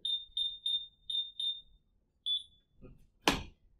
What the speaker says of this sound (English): I could open the door and set the alarm off